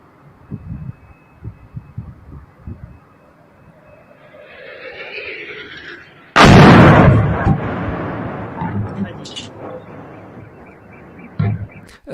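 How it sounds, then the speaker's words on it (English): A missile flies overhead as a rising, whooshing rush that builds for a couple of seconds, then a heavy, loud boom-like burst follows and decays slowly, with scattered knocks and faint movement before it. "Did you hear like a missile fly, like the sound of the flying missile?"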